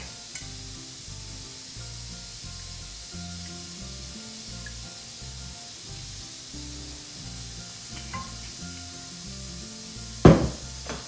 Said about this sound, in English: I'm going to add some extra virgin olive oil.